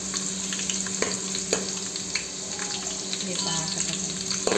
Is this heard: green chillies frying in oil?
yes